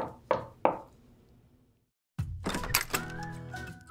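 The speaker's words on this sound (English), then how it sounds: "Let's knock on his door." Two sharp knocks on a door ring out close by, then fade into quiet before other sounds begin.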